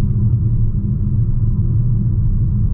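A Mitsubishi Eclipse Ralliart crossover cruising along, its cabin filled with a steady, deep road rumble that holds even and unbroken throughout, with no voices.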